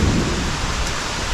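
Heavy rain and strong wind with thunder in a storm, a loud, continuous dense roar with a deep low rumble that never lets up.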